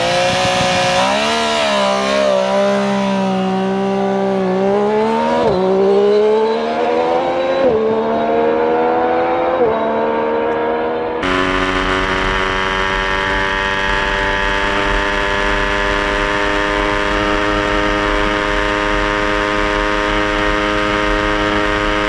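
A Triumph Street Triple RS motorcycle roars hard through rising revs on a quarter-mile run, each gear climbing in pitch before dropping at the shift, then settling into a steady loud high-revving drone close by.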